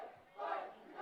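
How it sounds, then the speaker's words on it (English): A crowd at a high school varsity girls soccer game gives loud cheers and yells, a brief swelling roar that rises midway through, heard without clear speech. "Some loud cheers by Fupa, trying to pump this crowd up"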